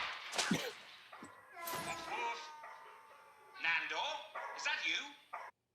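A dog in a cage yelps, whines and whimpers in short bursts with pitch-sliding cries, close and fairly loud, with a brief clatter near the end.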